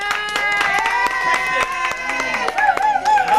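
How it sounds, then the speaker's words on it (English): Applause from an audience at a backyard barbecue talent show for the second-place flute player, sharp scattered hand claps running throughout with voices talking over them. "Big round of applause for Kristen."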